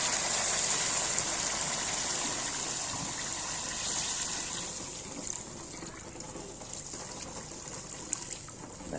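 Water poured into a pan of fried-down spice masala for a fish curry, a steady close gushing pour that is loudest at the start and eases off gradually without stopping.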